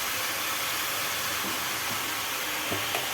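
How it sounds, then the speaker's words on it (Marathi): Leafy greens sautéed with salt in a pan give a steady, even hiss of sizzling that runs throughout, with a few faint stirring knocks near the end and no talking. "आणि भाजी मस्त अशी परतून घ्यायची आहे"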